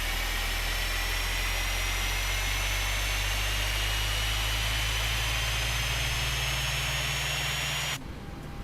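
A Boeing 737's number 2 engine starting in the X-Plane 12 flight simulator gives a loud, steady turbine whine and roar with rising tonal pitch, running for about eight seconds before cutting to a quieter hum.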